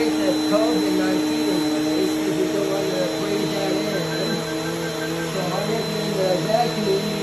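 A vacuum cleaner fitted with a brush attachment runs steadily over a mattress, a continuous close droning whine with small shifts in pitch as the brush moves, under faint background talk.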